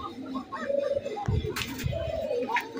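Cooing from a pigeon in a Bengali fancy-breed pigeon sale, with racer, high-flyer and Giribaz types, rises in a few low soft bursts over background murmur and other bird sounds.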